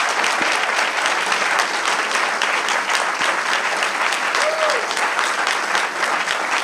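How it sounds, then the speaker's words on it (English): A debate audience claps steadily for the debaters after their answers on same-sex marriage, a loud, dense, continuous ovation with even intensity across the whole stretch. "give both a round of applause and thanks for them answering your questions"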